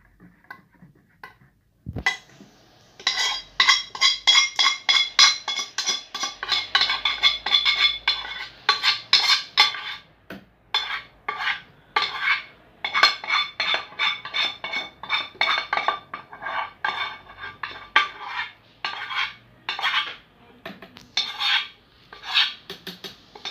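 A utensil scrapes and clinks against a bowl while melted, cooled chocolate is stirred into cake batter for a chocolate fondant, a steady rhythmic stream of close scraping strokes that continues with brief pauses.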